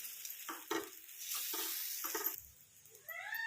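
Barnyard millet batter poured onto a hot pan for dhirde, giving a close, steady sizzle with bursts of scraping and spreading sounds, and a few faint higher squeaks near the end.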